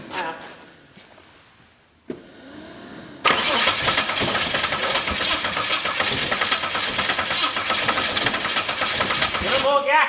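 A small engine with a choke is cranked over, quiet at first with faint talk, then catches at about three seconds and runs loud and steady as the throttle holds it near, until it cuts back at the end.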